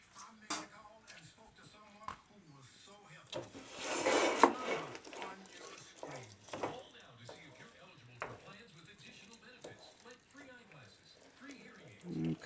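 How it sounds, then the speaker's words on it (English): A wooden spoon scrapes and knocks through smoked turkey pot pie filling with carrots and green beans in a pot, irregular rubbing and tapping, loudest in a brief burst, while a person talks throughout. "I think I'm going to go back to my wooden spoon now"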